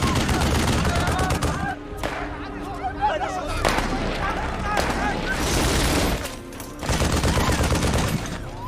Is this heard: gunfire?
yes